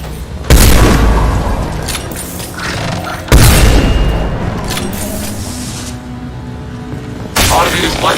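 Turret weapons fire in Mass Effect 2, with two heavy booming blasts followed by rumbling decay and a third blast near the end, close and loud, mixed with game voices.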